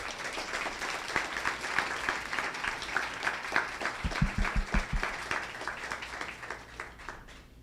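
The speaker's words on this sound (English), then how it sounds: "Can we get another round of applause for Emily and Mary?" An audience at an evening talk event applauds the two speakers, steady crowd clapping with a few sharper individual claps standing out, swelling briefly in the middle and then tapering off toward the end.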